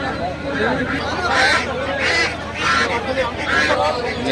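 Ducks at a muddy village livestock market being weighed for sale, honking and quacking in repeated bursts amid a dense crowd babble and nearby voices, close and continuous.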